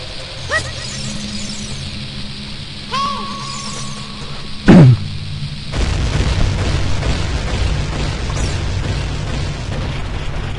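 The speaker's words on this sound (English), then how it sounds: "if you take a bomb out of the line, it won't make a chain reaction" Bombs set off in a chain reaction inside Zelda: Ocarina of Time, loud booming blasts with pops and squeals, one sharp heavy burst near the middle followed by a long rumbling roar that fills the rest.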